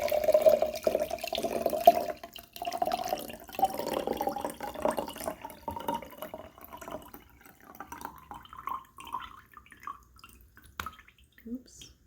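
Homemade rose water poured through a small strainer into a container, a close, continuous trickle and splash that thins toward drips, with a person talking over it.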